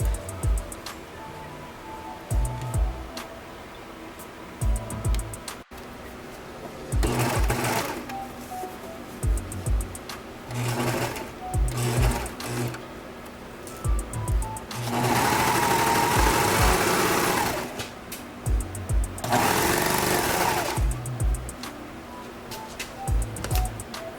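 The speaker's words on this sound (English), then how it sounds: "I'm going to finish the seam along the dress" A sewing machine finishes a seam on a silk dress, running in short bursts with pauses and clicks between them, close by, with two longer, louder stretches near the end.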